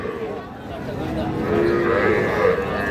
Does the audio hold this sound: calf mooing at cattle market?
yes